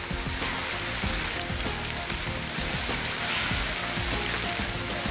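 Hail pelts a mountain trail on Sobaeksan, making a dense, continuous patter of countless small hard impacts that stays loud and unbroken throughout, with no voices over it.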